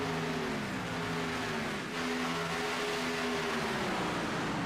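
Race cars in a sim racing game pack together at Talladega Superspeedway, their engines blending into a loud, continuous droning roar with steady tones that shift slightly as the pack runs on.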